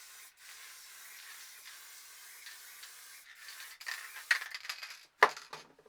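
A spray paint can lays down a coat of black in a steady, faint hiss for several seconds. It ends with a few louder clicks and rattles near the finish.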